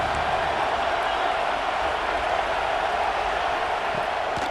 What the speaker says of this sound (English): This dog crowd is off the leash, and they are coming after them, bringing noise on 3rd down.